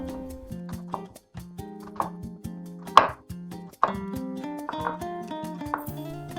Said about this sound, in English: we are finishing to cut vegetables